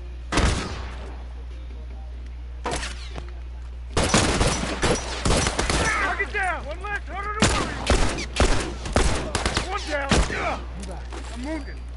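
Rifle fire in a multiplayer match of The Last of Us: sharp gunshot cracks in separate bursts and rapid volleys, with players talking between and over the shots.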